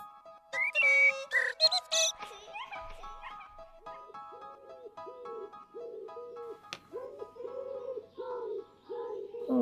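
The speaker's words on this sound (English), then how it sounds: "Here's the waveform of that blackbird." A blackbird's song from a track plays as a series of clear whistled phrases and warbles, followed by a run of short repeated cooing notes, moderately loud and without talk.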